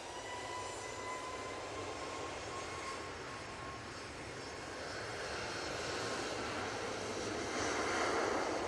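A TUI passenger jet airliner at Manchester Airport produces a steady broad engine roar heard from a distance, slowly growing louder toward the end, with no voices.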